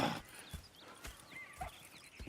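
Horses in the Red Dead Redemption 2 video game, with soft, evenly spaced hoof clops and a faint snort or whinny, all quiet and at a distance.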